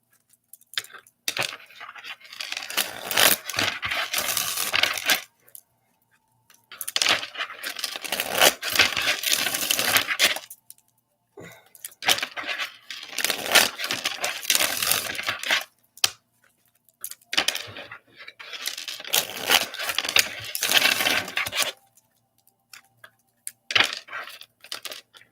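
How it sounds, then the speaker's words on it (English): Tarot cards shuffled up close in five separate bursts of crisp riffling and flicking, each burst separated by a short pause of silence. "I'm going to go ahead and begin to shuffle"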